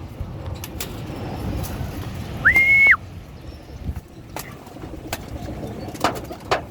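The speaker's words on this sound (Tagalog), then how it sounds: "Grabe, tatapang ng mga ibon dito." A single racing pigeon coo, a short sustained tonal call, rises briefly over faint outdoor background noise with scattered clicks.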